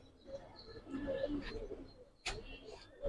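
Pigeons coo in a loft of Giribaz and colored pigeons with young squabs, low soft calls repeating under nearby voices, with a sharp rustle or flap partway through.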